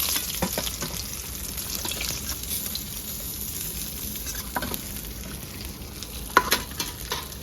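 A fish head frying in hot oil in a pan, heard as a steady close sizzle and crackle with occasional sharper pops and stirring scrapes, and no talking.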